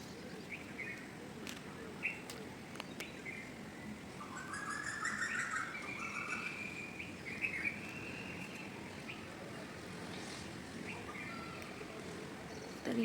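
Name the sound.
birds chirping in the early morning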